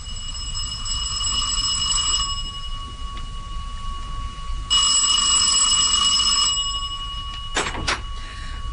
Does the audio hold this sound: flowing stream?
no